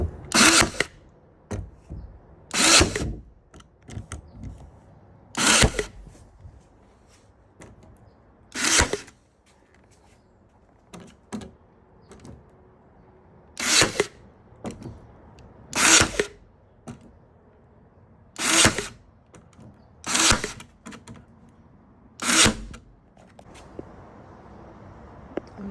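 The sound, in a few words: staple gun stapling cardboard to a worm bin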